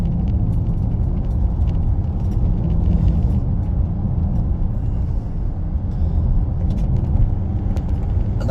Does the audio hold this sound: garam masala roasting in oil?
no